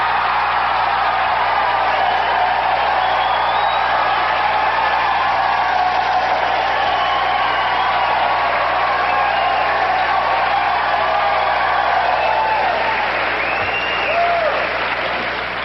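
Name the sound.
studio audience applauding loudly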